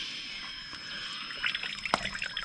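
Coolant draining from the radiator of a 2003 Polaris 700 twin during a head gasket job, a steady trickle with dripping that grows busier and splashier toward the end, close and alone.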